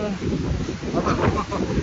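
Strong sea wind blows across the microphone on a street near the coast in Charleston, South Carolina, a loud continuous rumbling buffet with surging gusts throughout.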